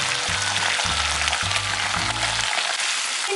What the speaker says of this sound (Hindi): इन सब चीज़ों को अच्छे से फ्राई आउट कर लें